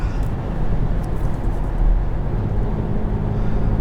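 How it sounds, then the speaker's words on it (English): Inside a 2021 Porsche Macan GTS in Sport Plus mode, the engine holds high revs as a steady, loud, low-pitched drone over road rumble. "Sport Plus holds revs a lot higher"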